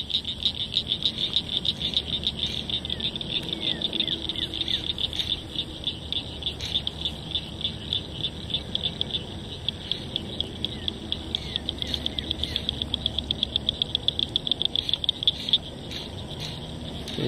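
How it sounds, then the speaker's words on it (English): A dense chorus of frogs croaking continuously, with a steady high-pitched trill and rapid pulsing calls layered over a soft outdoor background. "So are the frogs. Hear them croaking."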